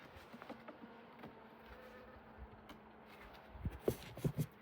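Honeybee colony during an autumn hive inspection, a faint steady buzz with a few closer, louder buzzing passes near the end.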